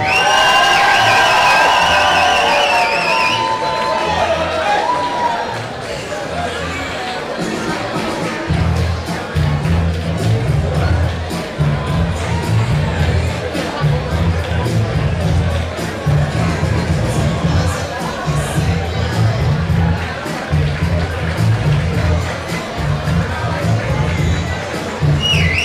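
A packed local crowd at an amateur boxing debut cheers, whoops and claps loudly and continuously as the fighter makes his ring entrance, with a thumping music beat pulsing beneath the roar.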